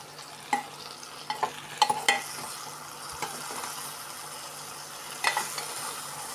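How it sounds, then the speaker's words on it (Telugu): Brinjal masala curry is stirred in a pan, with scattered scraping clicks and knocks of the spoon over a steady low sizzle, close and fairly clear, with no voices. "ఇది మొత్తం బాగా కలుపు."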